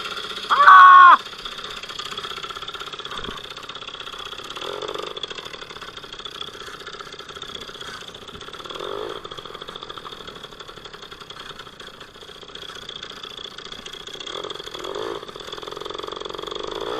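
An MBK 51 Magnum moped engine runs after starting. A short loud burst opens, then a steady, fairly quiet idle hums on alone.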